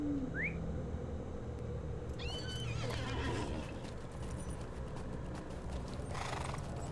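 A horse in the Lord of the Rings Online video game snorts and lets out a loud whinny, then clip-clops along with hoofbeats, while birds chirp and whistle in the background.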